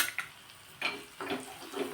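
Asafoetida and white sesame seeds tempering in hot oil, crackling and sizzling close by in short spitting bursts over a steady low hiss, with no talk.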